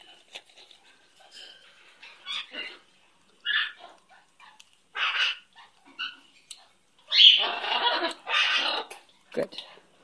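Odie, a pet dog, gives several short barks and yips in bursts, heard close alongside a person talking warmly.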